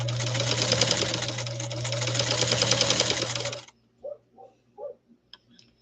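A 1949 German-made New Home "Greyhound" Model K sewing machine stitching steadily with a fine universal needle, a dense mechanical whir with a low hum for several seconds, then it stops and a few soft clicks follow.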